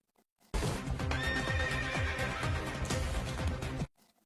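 A wild horse in a film lets out one long, loud whinny lasting over three seconds, cutting in sharply after near silence and stopping abruptly, with faint hoof-like thuds underneath.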